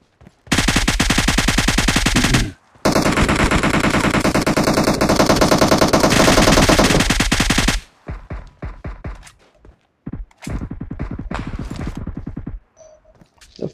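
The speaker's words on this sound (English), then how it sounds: "Getting shot at." Heavy automatic gunfire in PUBG Mobile, long loud sustained bursts near the player, a brief gap, then choppier scattered shots and shorter bursts toward the end.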